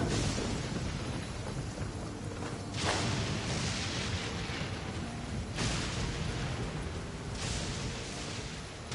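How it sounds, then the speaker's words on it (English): Rain pours steadily in the Genshin Impact video game while rolling thunder swells and breaks through it in several heavy surges, loud and broad, with no talking. "Let us find shelter from the rain."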